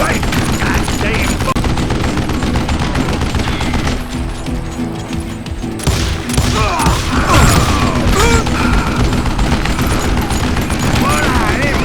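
Gunfire rattles almost nonstop in the Western shooter Call of Juarez: Gunslinger, mixed with clicking reload mechanisms, dense and loud across the whole stretch with a brief thinner pause midway.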